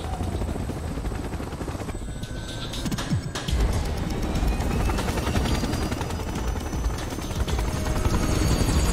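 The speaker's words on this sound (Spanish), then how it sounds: "Espera, que todavía hay el helicóptero, tío." A helicopter in the video game Resident Evil 6 keeps up a loud, steady rotor thump throughout. Gunfire and impacts are mixed in, and no one speaks.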